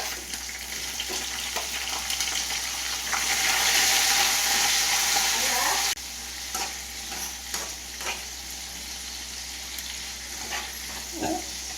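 Onions fry in a pan for bisi bele bath with a steady, bright sizzle that swells, then drops suddenly to a lower hiss. Light stirring and scraping clicks follow, close by and with no talk.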